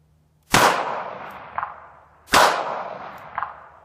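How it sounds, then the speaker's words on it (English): Two sharp gunshots from a Ruger SP101 .357 Magnum revolver, fired about two seconds apart. Each loud crack decays into a reverberant tail, with a faint echo returning about a second later, and no talk. "Very pleasant gun to shoot."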